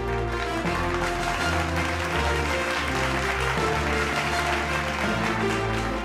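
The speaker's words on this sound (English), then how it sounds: "Can we have a round of applause?" Applause from the audience at the 12th Indian Legal Awards 2023 ceremony, a steady dense wash of clapping held throughout under loud sustained event music.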